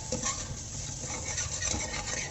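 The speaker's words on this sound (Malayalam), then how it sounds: "അതിനകത്തേക്ക് നമുക്ക് 1 ടേബിൾ സ്പൂൺ നെയ്യ് ഒഴിച്ചു കൊടുക്കാം. അത് ചൂടായപ്പോൾ നമുക്ക് ആ ക്രഷ് ചെയ്ത് വെച്ച കിഴങ്ങും പിന്നെ കുറച്ച് അണ്ടിപ്പരിപ്പ് ഇട്ട് കൊടുക്കാം." Crushed sweet potato and cashews fry in a spoonful of hot ghee for sweet potato payasam, giving a steady soft crackle with stirring and scraping in the pan throughout.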